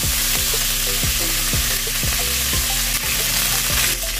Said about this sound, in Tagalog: babaligtarin muna natin yung ating mga pina-fried ng chicken